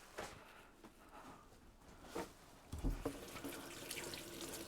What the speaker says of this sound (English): I'm gonna give my hands a quick wash.